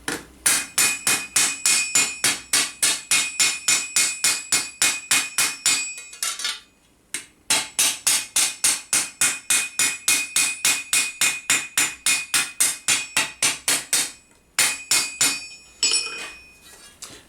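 Flatter hammer striking the edge of a medieval armour plate on an anvil to sharpen it, bright ringing metallic taps in quick steady runs broken by two short pauses, close and loud, with no voices.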